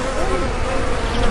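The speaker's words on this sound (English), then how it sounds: "The bees are out in full force" Bees buzz around flowers outdoors in Benicia, California, in a brief, steady, close swarm drone that holds a constant level throughout.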